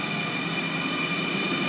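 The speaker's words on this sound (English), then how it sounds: "and that's that train going." Interrail train pulling away from Schiedam station in the Netherlands, a steady close rumble of rolling wheels and carriages with a faint metallic whine, continuous and loud throughout.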